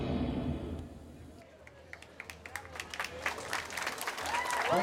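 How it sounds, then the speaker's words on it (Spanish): Parade crowd for the 20 de Noviembre march, starting with rumbling background noise, then scattered claps building into a broader round of applause out in the open. "Aplauso"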